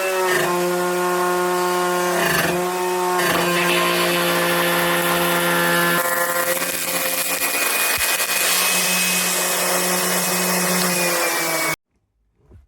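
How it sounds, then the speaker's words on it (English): Power sander working over a wooden desk top, a steady loud motor whine with a sustained buzzing drone that holds for nearly twelve seconds before cutting off abruptly. "now I get to do more sanding"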